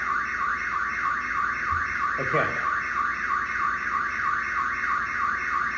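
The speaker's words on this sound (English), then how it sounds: "The alarm went off." A car alarm blares continuously in a steady, rapidly repeating warble, loud and close, with a person briefly speaking over it partway through.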